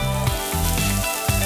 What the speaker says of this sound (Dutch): Verwarm intussen 3 eetlepels olijfolie. Voeg de gesneden rode ui toe. De gesneden rode pepertjes.